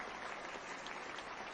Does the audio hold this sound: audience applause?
yes